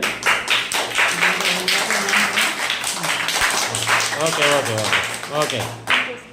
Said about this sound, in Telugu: అలాగే మన గురువు గారు ఇంకోసారి క్లాప్స్ కొట్టండి